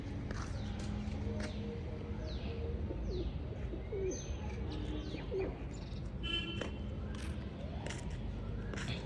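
Pigeons kept on a rooftop coo and chirp in short repeated calls over a steady low background rumble, moderately close, with no talk.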